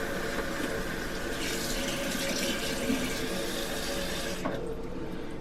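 Water runs steadily from a tap into a bowl at a camp cooking spot, a continuous close hiss and splash that cuts off near the end.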